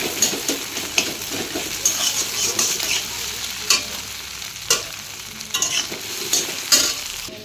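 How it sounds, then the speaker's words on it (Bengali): Maggi noodles being stirred into fried onions in a hot pan, a steady sizzle under repeated scraping strokes of the spoon against the pan, close and fairly loud with no talk. "এখন ম্যাগিটাও আমি এর মধ্যে দিয়ে ভালো করে নেড়ে চেড়ে নেব"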